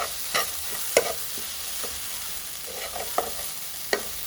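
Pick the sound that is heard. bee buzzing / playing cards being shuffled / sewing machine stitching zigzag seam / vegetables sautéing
vegetables sautéing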